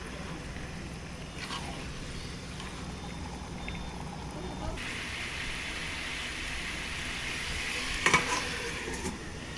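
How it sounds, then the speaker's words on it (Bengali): Marinated chicken going into hot spiced oil in a pot over a village clay stove, a steady broadband sizzle that swells louder partway through, with brief clatters of stirring near the end. "এবার আমি ম্যারিনেট করা মাংসটা দিয়ে দিচ্ছি।"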